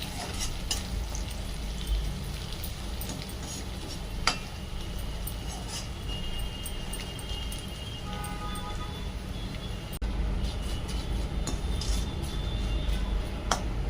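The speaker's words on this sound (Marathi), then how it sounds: "छान मस्तपैकी तळून घ्यायचे म्हणजे चुडा सादर असून त्यातला ओलेपणा पूर्ण निघून गेला पाहिजे इतपत तळायचे" Flattened rice (chuda) frying in hot oil for garlic bhadang, a steady close sizzle and crackle running throughout, with faint scraping or stirring and a few brief clinks.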